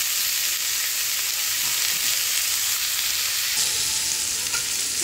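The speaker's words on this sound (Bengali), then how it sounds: "মূলাটা ভেজে নিচ্ছি" Radish pieces frying in a pan, a loud, even sizzle close by with faint stirring sounds and no talk.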